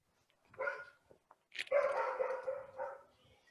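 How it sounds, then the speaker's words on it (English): Dog barking in the background: a short yelp, then a drawn-out, howling bark and a final shorter bark, moderately loud and alone with no talking. "As you can hear in the background, the dog is probably going crazy."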